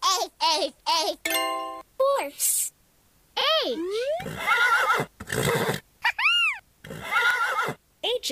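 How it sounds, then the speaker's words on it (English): A cartoon horse neighs in a children's alphabet song, several high wavering whinnies mixed with bouncy sound effects and a child's sung and spoken voice. "H is on a horse."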